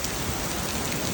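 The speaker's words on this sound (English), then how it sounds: "I have a cap, but it's not going to save me from this torrential downpour." A torrential rain downpour in Kuala Lumpur pours down as a steady, loud hiss of heavy drops on surfaces, dense and unbroken with no voices.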